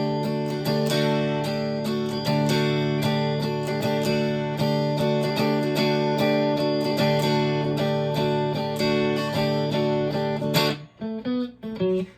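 An electric guitar plays the chorus of a song, with dense strummed chords and driving repeated strokes for about ten seconds before ringing out into a few sparser notes at the end, close and loud.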